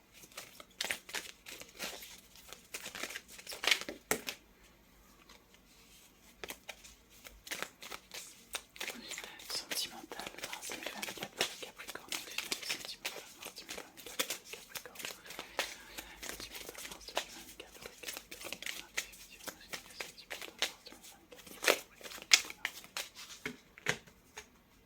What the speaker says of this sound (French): on va recouvrir ici ce tirage avec l'oracle améthyste